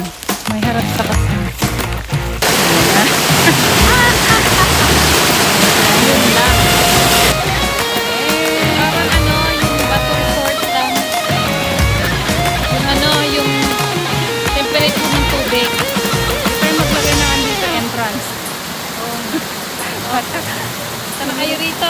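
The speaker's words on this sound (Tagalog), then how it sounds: "Ito yung falls eh." A forest waterfall roars with steady broadband rushing water, with voices chatting over it and other sounds mixed in throughout.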